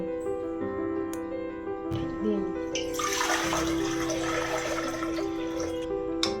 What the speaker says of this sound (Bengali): আমরা এর জন্য প্রেসার কুকারে দিয়ে দিলাম জল।